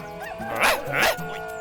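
A dog gives two short, yelping barks close by, the second following quickly after the first, with a faint background hum and no talking.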